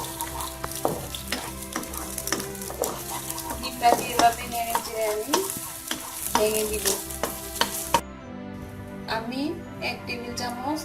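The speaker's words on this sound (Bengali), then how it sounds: "এখন আমি আগে এক স্পুন তেল দিয়ে ডিমটাকে ভেজে নিব" An egg frying in a spoonful of oil in a pan, crackling sizzle under repeated sharp clinks and scrapes of a utensil stirring against the pan, with a voice talking over it.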